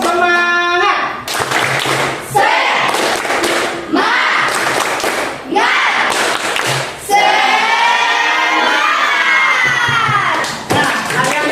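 A classroom of pupils performs a rhythmic clapping cheer, bursts of claps falling in a patterned beat while young voices chant along loudly in unison, close and lively throughout.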